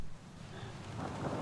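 Thunderstorm ambience in the video game Guild Saga Vanished Worlds, a low continuous rumble with a steady rain-like hiss, fairly quiet and swelling slightly toward the end.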